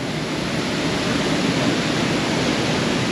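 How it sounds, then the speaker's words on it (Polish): A waterfall on Bali, Indonesia, gives a steady, dense rush of falling water. The roar is close and even, with no pauses and no voices. "Nie no, ładny, fajny wodospad."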